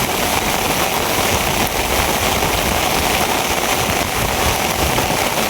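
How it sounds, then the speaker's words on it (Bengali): Heavy rain pours down in a steady, dense hiss that stays loud and unbroken throughout, falling where current nets are set for fishing. No one speaks over it. "প্রচুর বৃষ্টি শুরু হয়েছে"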